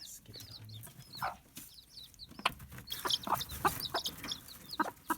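Broody hens call to week-old chicks with soft, high piping peeps and clucks, a scattering of short repeated notes close by over quiet farmyard rustling.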